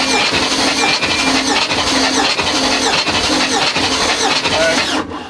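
A Baja Boss 272 engine cranks over steadily during a compression test, a loud continuous churning drone with a squealing edge that holds for about five seconds and then cuts off abruptly.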